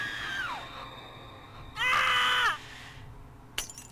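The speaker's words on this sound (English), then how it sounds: "I let out a scream and dropped my favorite Sir Spottie mug. It was smashed into pieces." A loud, wavering scream in the video game Will: A Wonderful World is followed by a sharp, bright crash of a mug smashing into pieces, heard alone over a low background hum.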